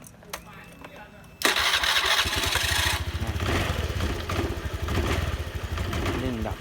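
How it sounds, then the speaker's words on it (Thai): A Honda Click 110i motorcycle with a faulty fuel injector fires up after a quiet start, its engine revving roughly and unevenly close by, with someone talking over the running motor. "เวลาเร่งนะครับเร่งดับ"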